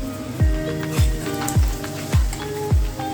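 Cumin and mustard seeds hit hot oil for a tempering, giving a crackling sizzle with a regular series of sharp pops, about five across a few seconds, close by.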